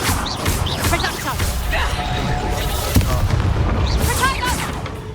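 Reducto spell blasts and combat in Hogwarts Legacy come through as a dense, loud barrage of booms and crashes under continuous battle noise. Voices shout over the fighting throughout.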